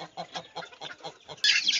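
Chickens cluck in a rhythmic series of short calls close by, followed by a louder, harsh rooster crow that bursts in near the end.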